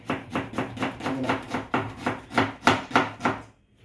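A knife chops ingredients fast on a board for a chicken kappa biryani: about a dozen sharp, evenly spaced thuds in quick succession, close and clear, then stopping. No voices.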